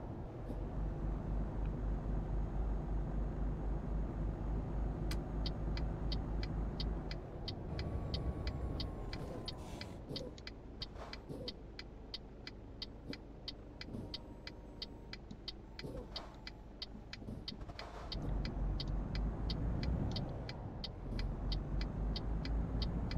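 A heavy truck engine labours steadily at low speed up a hill in Euro Truck Simulator 2, a continuous low drone with a regular rapid ticking over it, nursed along toward a gas station.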